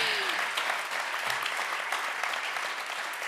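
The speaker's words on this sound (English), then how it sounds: "so give him applause." Applause from an audience at a tech talk, a steady wash of clapping from many people heard at moderate distance, even in level from start to finish with no voices on top.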